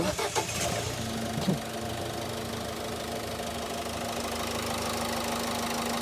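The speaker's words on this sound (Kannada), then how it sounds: "ಗಾಡಿ ಆನ್ ಮಾಡಿ AC ಆನ್ ಮಾಡಿ." A car engine catches with a couple of quick bursts near the start, then settles into a low, steady idle hum that carries on to the end.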